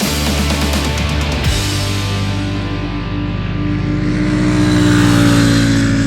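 A Royal Enfield Super Meteor 650 twin-cylinder motorcycle engine drones steadily while riding on a road in Rajasthan, a loud continuous hum with wind noise and a slight rise in revs toward the end.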